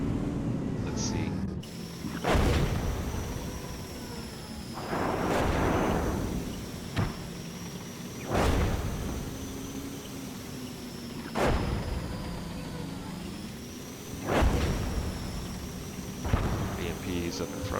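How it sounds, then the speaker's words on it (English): Artillery shells land in the tank game Gunner, HEAT, PC!, with a T-64A. About six heavy booms strike at uneven intervals of a few seconds over a constant low engine drone. "artillery's landed up here in front of us"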